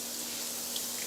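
A boiled egg rinsed under a running kitchen tap, a steady broadband rush of water pouring continuously and close for the whole stretch, with no talking.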